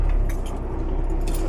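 A bunch of keys jangles close by as people get ready to head out on a cold day, a steady metallic clinking that carries through the whole short moment with no talk over it.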